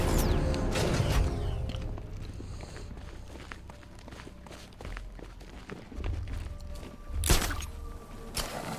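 A shutter door in Batman Arkham Knight creaks and rattles open with mechanical clanks, mixed with game footsteps and scattered metallic hits, louder bursts near the end.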